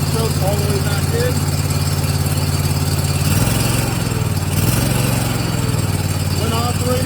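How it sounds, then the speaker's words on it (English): Small gasoline engine on a Barreto tracked trencher idles steadily while warming up after being cranked, a continuous low droning hum running the whole time, with a slight shift partway through. "Go ahead and give that a crank. Give it a few moments so it can warm up"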